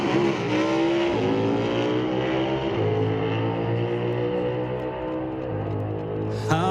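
A small-block race car engine revs hard at a drag strip, climbing through gears toward about 11,000 RPM, each shift dropping the pitch before it winds up again; loud, close and continuous with no talk.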